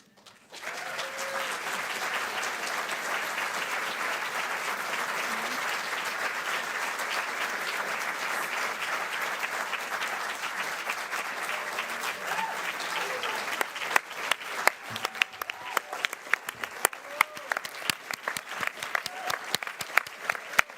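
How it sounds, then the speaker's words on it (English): Audience at a founding debates event applauds steadily and loudly after congratulations, with a dense continuous wash of claps that thins toward the end into sparser, distinct individual claps. "So while you are all applauding them"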